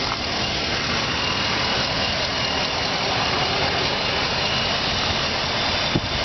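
A 2006 Jeep Commander's 4.7 liter V8 idles with a steady, even rumble that holds loud and close for the whole stretch, with no revving and no voices.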